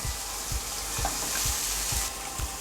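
Spicy small octopus stir-fried with pork belly sizzles steadily in a pan, a dense continuous hiss with low periodic thumps from stirring, close and fairly loud with no talking.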